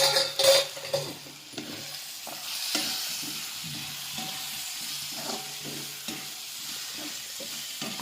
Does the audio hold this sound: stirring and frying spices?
yes